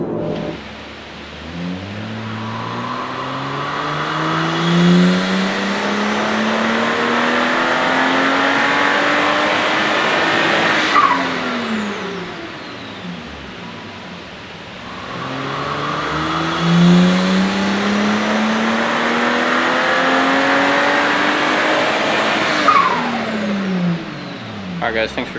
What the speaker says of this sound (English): We just finished up dynoing the F10 N55 car on a Franken F55 turbo